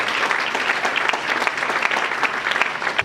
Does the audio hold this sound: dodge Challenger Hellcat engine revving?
no